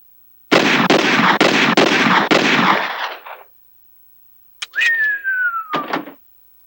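A movie gunshot scene: a rapid string of five or six loud, sharp shots fired in quick succession, then a pause and a shrill descending whistle-like tone with a couple of short bangs, no talking.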